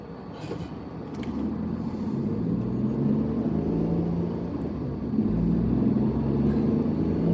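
Heavy road traffic with many cars makes a steady, dense rumble and wash of tyre noise that builds and holds at moderate level, with no distinct single vehicle standing out.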